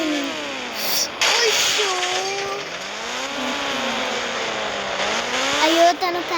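Racing video game audio: a whining car engine rises and falls in pitch with tire squeals and an abrupt crash burst near the start, loud and continuous, with no talk over it.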